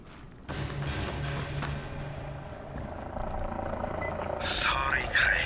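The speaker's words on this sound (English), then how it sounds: "Oh, no. The helicopter." Helicopter in the video game Dying Light, a steady low rotor drone with rhythmic thumping underneath, continuous and fairly loud through the whole stretch alongside game music and effects.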